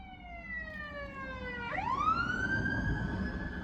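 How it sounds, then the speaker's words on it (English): An ambulance siren wails through city streets, heard from inside a car: a clear electronic tone that sweeps down, then abruptly jumps and rises into a new held pitch, fairly loud over low traffic rumble, no talking. "Oh, there's a siren, ambulance."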